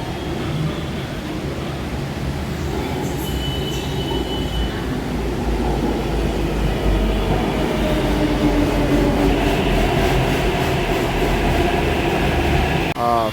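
Hyderabad metro train running toward Uppal: a loud, steady rumble and rush of the carriages from inside the train, with rail hiss, faint squeals and some murmuring voices underneath throughout.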